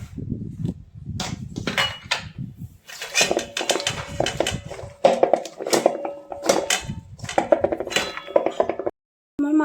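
Spice paste of mustard, poppy seed and chilli being mixed by hand with mustard oil and chopped onion in a bowl, a close run of wet squelches, clinks and scrapes in irregular bursts.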